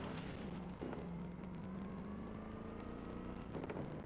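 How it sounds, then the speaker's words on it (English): A car in the Cyberpunk 2077 video game, its exhaust pipes droning with a steady engine hum while coasting off the throttle, continuous and fairly loud throughout. "the car makes a little bit of a shitty sound when you let the loose of the gas"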